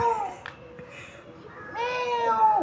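A cat meows from the roof of a ten-storey building, giving several drawn-out, close meows with quieter background sound between them.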